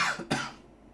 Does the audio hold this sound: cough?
yes